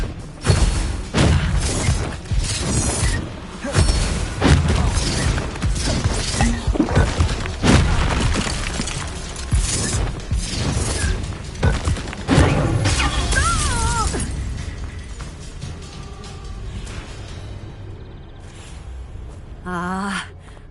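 Confringo and Bombarda spell blasts in the Hogwarts Legacy video game, with a rapid series of loud explosive crashes, shattering and thuds amid battle noise and shouted voices, easing off toward the end.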